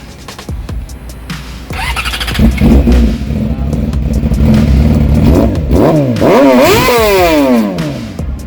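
A 2017 Yamaha R6 sport motorcycle with a full exhaust and dyno tune revs hard and loud, its engine screaming up and down in sharp, repeated pitch sweeps close by.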